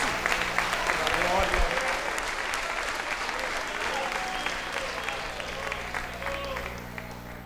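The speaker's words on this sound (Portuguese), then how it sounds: "Se você puder aplaudi-lo, aplauda-o, louve-o, engrandeça-o, porque ele merece." Congregation in a church service applauding in praise of God, a broad wash of clapping that swells at first and then eases to a lighter, steady patter, with faint voices mixed in underneath.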